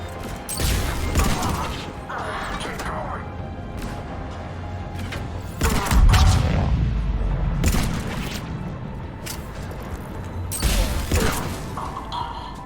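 Heavy booms of cannon fire in Mass Effect burst out at irregular intervals over a rumbling, mechanical battle backdrop, loud and close.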